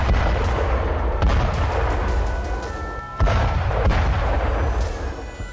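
A weapons depot building in Kharkiv, Ukraine, is rocked by explosions, with continuous rumbling blasts and crackling bursts, heavy and loud with a sharper boom about midway.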